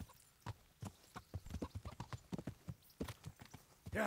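Horse hooves clip-clopping in the video game Kingdom Come: Deliverance, a quick irregular run of distinct hoof strikes at moderate distance, fairly quiet, with no talk over them.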